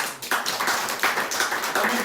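An audience at a leadership training session clapping in a quick, uneven burst of handclaps, moderately loud and close, continuing without a pause for about two seconds.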